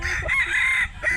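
A rooster crows loudly and close among chickens on a poultry farm, a single drawn-out call with brief clucks around it.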